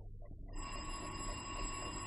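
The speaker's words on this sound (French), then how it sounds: "Et je te dis que le téléphone sonne." A telephone bell rings continuously as a sound effect in a French radio drama, its bright metallic trill starting after a brief near-silence and holding steadily to the end.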